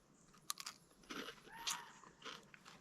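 Quiet, close crunching bites on crisp oven-baked salted seaweed, a few sharp cracks followed by soft chewing.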